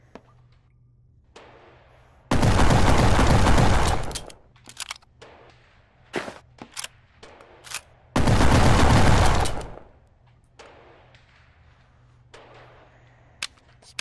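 Shotgun blasts from the Spaz-12 in the VR shooting game Gun Club VR, two long, loud bursts of rapid, crackling fire with scattered sharp single shots and clicks between them.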